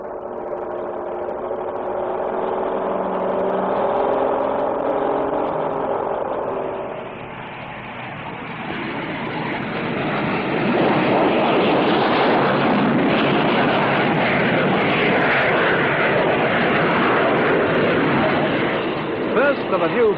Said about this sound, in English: his hands on the Beagle Wallace autogyro controls